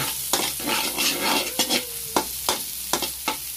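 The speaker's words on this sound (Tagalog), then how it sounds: "Haluin muna natin." Ginger being stirred in a pan while cooking dinuguan, with a continuous close sizzle and regular scraping strokes of the spoon roughly every half second.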